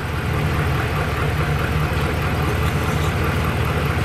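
A RAM 1500 pickup with the 5.7L HEMI V8, 2009-2018 generation, idles steadily with a low, even rumble that holds unchanged throughout and no talking.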